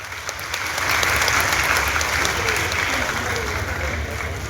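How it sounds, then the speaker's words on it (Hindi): Loud, sustained applause from a large crowd at the closing ceremony of a Khadi and Saras fair as prizes are presented, a dense continuous roar of clapping with a faint voice over it. "जोरदार तालियां।"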